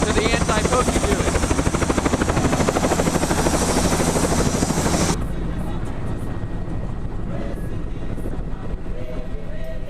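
Tour operator's helicopter flying on an anti-poaching patrol near Victoria Falls, Zimbabwe: a loud, continuous rotor chop and engine whine heard close, then dropping to a softer, muffled drone partway through.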